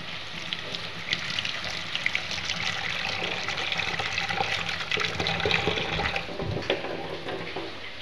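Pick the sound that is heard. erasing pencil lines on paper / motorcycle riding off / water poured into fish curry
water poured into fish curry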